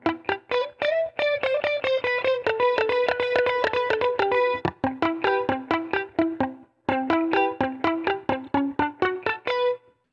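A distorted electric guitar tone shaped through a Line 6 Pod Go plays a fast run of picked single notes with a bright, sustained edge, loud and alone, broken by two short pauses.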